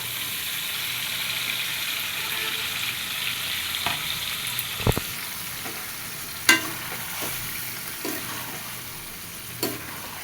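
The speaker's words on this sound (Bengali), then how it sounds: "এখন ম্যারিনেট করে রাখা মাংসটা দিয়ে দিব" Marinated meat fries in spiced oil, a loud steady sizzle with a few sharp clanks and scrapes of stirring, without talk.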